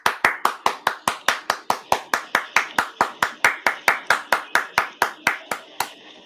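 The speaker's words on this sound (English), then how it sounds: "the audience cheers and applauds." Steady rhythmic hand clapping at an E3 2023 press conference, about two dozen sharp, evenly spaced claps at close range, loud and without talk, more like one person or a small group clapping in time than a broad crowd.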